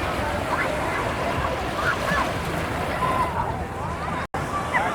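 Sea waves washing onto a beach in Barcelona, a continuous broad surf wash with wind buffeting the microphone, steady and fairly loud, with a brief dropout near the end.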